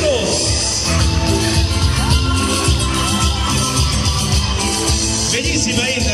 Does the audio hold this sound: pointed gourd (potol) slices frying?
no